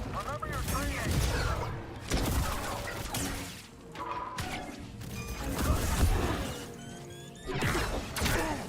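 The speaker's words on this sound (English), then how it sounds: "Oh, rockets." Rockets firing and exploding in a Star Wars video game, a busy run of bursts, crashes and mechanical clatter filling the whole stretch, loud and close, with game voices mixed in.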